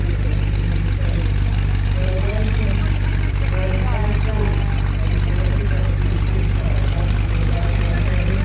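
A Land Rover Defender 90 with a 3.5-liter Range Rover engine idles and burbles with a heavy low rumble at a 4x4 jamboree, steady throughout, with a few faint irregular backfire pops over the drone.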